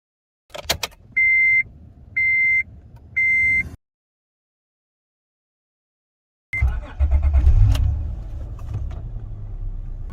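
A 2005 Acura TL sits through three even chime beeps and a pause of silence, then its engine cranks and catches on a cold start, settling into a loud, close, rumbling idle.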